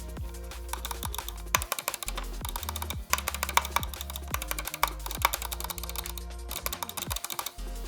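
A Logitech Pro X Superlight mouse clicked repeatedly in a sound test, giving crisp, close-up taps in irregular quick clusters, heard alone with no voices.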